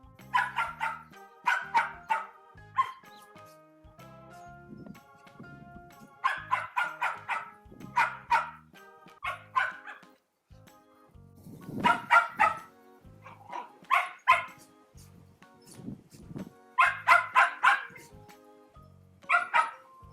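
A small pet dog barks and yips in repeated playful bursts close by, with short whimpers and rustling between the barks, and no talking over it.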